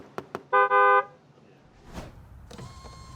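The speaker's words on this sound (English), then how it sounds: "Why are you honking the horn?" Car horn of a Honda CR-V honked in two short toots, then a longer loud blast, followed by quieter rustling and a faint tonal hum.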